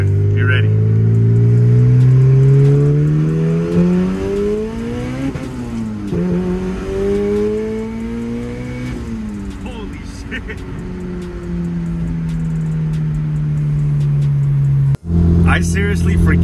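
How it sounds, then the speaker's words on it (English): Boosted Honda CRX pulling hard in second gear, a loud close engine climbing steadily in pitch over several seconds, a brief dip at a shift, then rising again before cutting off abruptly. "I'll do a second gear pull right here for you."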